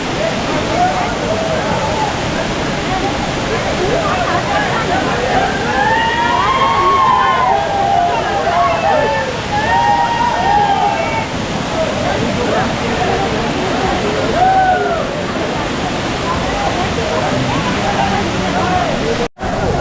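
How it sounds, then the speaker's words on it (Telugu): Kempty Falls waterfall in Mussoorie on a foggy morning, a loud steady roar of rushing, crashing water filling the whole clip with no talk heard. "సరే మేము మన కెంప్టీ వాటర్ ఫాల్స్ని మనం దగ్గర నుండి చూద్దాం"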